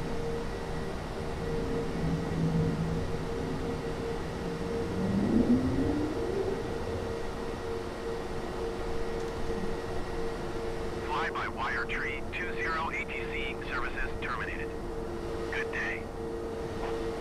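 Airliner flying at about 300 knots with landing gear lowered in Microsoft Flight Simulator, a continuous engine drone with a rising whine partway through, while someone talks over it.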